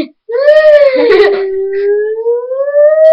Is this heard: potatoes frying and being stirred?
no